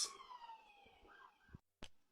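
A siren wails with a high descending tone, fairly loud at first then fading, followed by a brief sharp burst near the end.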